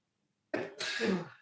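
Someone sneezes once during a casual gaming chat: a sharp, close two-part burst that breaks abruptly out of silence and then trails off.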